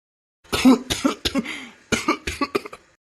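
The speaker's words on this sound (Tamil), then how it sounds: "ஏன் ஒரு மாதிரி இருமுற?" A person coughs repeatedly and close up, a couple of heavy coughs then a rapid series of shorter, weaker ones tapering off.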